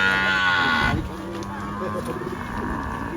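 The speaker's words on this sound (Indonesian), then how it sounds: "Kita jual sapi betina." A Bali cow gives a loud, drawn-out moo close by, the call fading after about a second into lower grunts and background voices of a busy livestock market.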